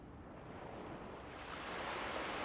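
A steady wash of calm sea waves rolls without a break, with a soft windy hiss that swells a little toward the end.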